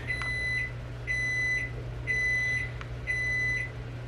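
A microwave oven sounds four evenly spaced beeps after reheating tea, each a clear electronic tone with short clicks, over a steady low hum.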